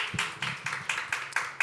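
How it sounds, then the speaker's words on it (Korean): Audience clapping at a Korean church youth worship service, rhythmic unison claps landing roughly every quarter second, fairly faint and distant in a reverberant room. "일단 박수를 한번."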